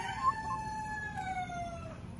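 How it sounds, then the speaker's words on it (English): An older backyard hen makes soft, drawn-out clucking and crooning calls, fairly faint and alone against a quiet outdoor background. "She's an older chicken."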